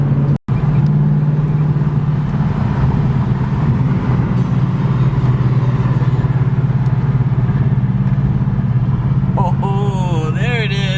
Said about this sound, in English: this is his new Mustang